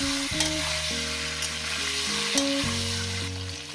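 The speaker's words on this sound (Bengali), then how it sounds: "শিমটাকে দিয়ে মিনিট দুয়ে ধরে ভাজবো" Flat beans fry in oil in a pan, giving a constant bright sizzle with occasional stirring, while steady tonal music plays over it.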